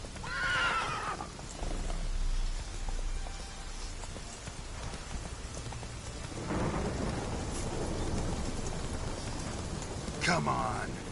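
Roach, a horse in The Witcher 3, gallops amid a thunderstorm with steady rain, rolling thunder and a loud whinny near the end, while a voice speaks briefly over it.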